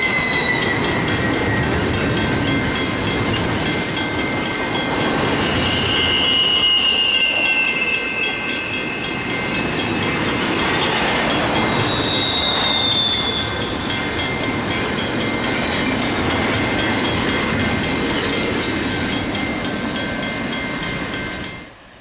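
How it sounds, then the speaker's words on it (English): A westbound Santa Fe train led by a Kodachrome-painted SD39 locomotive rumbles past at close range, loud and sustained with wheel squeal and a horn-like tone, fading only at the very end. "Kodachrome SD39 leads another westbound through Malt B."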